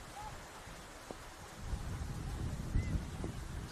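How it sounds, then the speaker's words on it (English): Rain pours steadily over an outdoor women's football match, a broad continuous hiss with wind-driven gusts growing louder midway, heard without commentary. "Just watching this rain, it's changing the direction it's coming from."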